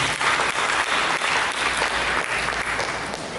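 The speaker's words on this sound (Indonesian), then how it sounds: "Mari kita berikan tepuk tangan bagi Yesus" A church congregation applauds for Jesus with dense, continuous clapping that fills the room, loud and steady throughout with no pauses.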